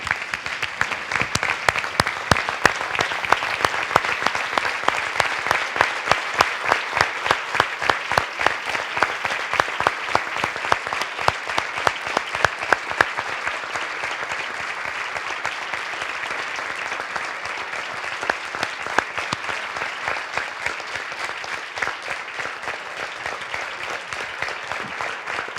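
Sustained audience applause fills a large hall at a BEST general assembly event in Tallinn, dense steady clapping from many hands that starts strong and tapers slightly while continuing throughout, with no talk over it.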